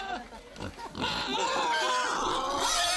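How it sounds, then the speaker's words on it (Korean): Pigs awaiting ritual sacrifice at a traditional ceremony in the Banaue rice terraces, grunting and squealing in a rising, strained chorus that grows louder and more continuous, with faint voices nearby. "오늘 제사에 바쳐질 돼지는 3마리."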